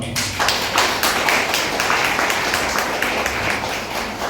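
An audience at a Tamil Christian retreat claps in a steady, rhythmic beat. The close, loud claps continue without a break throughout.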